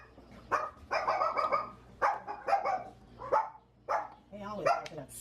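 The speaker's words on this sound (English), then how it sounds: "I just want you to stop all that barking." A dog in a home kitchen barks repeatedly and close by, sharp yapping bursts coming in quick succession with short gaps between them.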